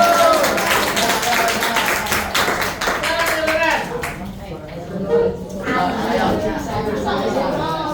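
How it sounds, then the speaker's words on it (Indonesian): Applause and clapping from students in a classroom as a student group is recognized, mixed with chatter and a teacher's voice, dense and fairly loud through the first half, then thinning into talk. "Tepuk tangan untuk kelompok 1."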